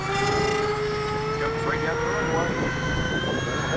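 Dynam TurboJet radio-controlled model jet at full throttle for takeoff, a steady loud whining roar with a rising tone, continuous throughout and close by.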